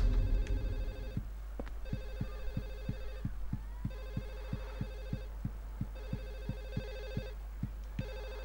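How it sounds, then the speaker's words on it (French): A telephone rings somewhere in a Silent Hill 4 game scene, its bell trilling in repeated bursts with short pauses over a low steady hum and a faint throbbing pulse, with no talk over it. "Un téléphone sonne quelque part, ouais."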